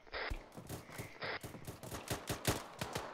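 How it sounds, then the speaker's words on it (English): Rapid rattling bursts of rifle and machine-gun fire in the military game Arma, with sharp closely spaced shots in quick rhythm and a few echoing cracks, moderately faint and without talk. "I keep opening fire"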